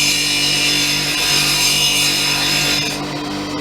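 A lapidary grinder shaping a stone: a loud, continuous abrasive grinding hiss with a steady underlying motor hum, easing slightly toward the end.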